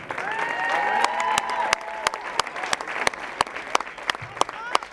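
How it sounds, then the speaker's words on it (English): A crowd at the South African Derby show jumping arena applauds, the clapping continuous through the first half and then thinning into scattered claps, while an announcer's voice runs over it. "give a round of applause for our sponsors offering the prizes to the winners"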